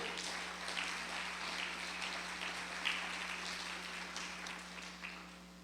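Faint, distant applause from a church congregation during a Spanish-language service, a steady wash of clapping over a low electrical hum.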